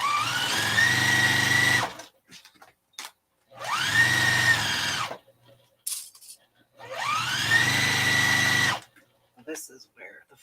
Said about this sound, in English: let's sew this shut.